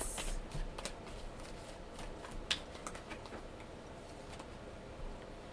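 Game of Thrones tarot cards are shuffled and laid out, a steady stream of soft papery riffles, flicks and taps close by, with no talking.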